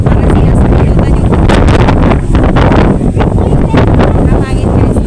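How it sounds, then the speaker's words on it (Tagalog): Strong wind buffets the microphone at Boracay Keyhole, a loud, continuous roar with gusty surges that fills the whole clip. "Pero sobrang lakas ng hangin."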